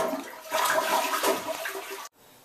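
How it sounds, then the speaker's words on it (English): A toilet flushes as it is drained, giving a short, loud rush of swirling water up close that stops abruptly after about two seconds. "Go ahead and drain your toilet once or twice."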